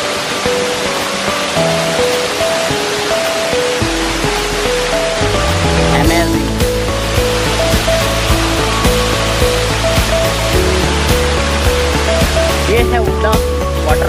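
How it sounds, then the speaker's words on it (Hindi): Ulda waterfall in a dense forest roars as a constant, loud wash of falling water, partly masked by tonal music playing over it. "यह है उड़ा वाटरफॉल।"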